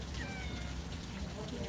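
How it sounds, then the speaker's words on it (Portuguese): A small kitten meows close by, a short high cry over a murmur of background voices. "Gatinho."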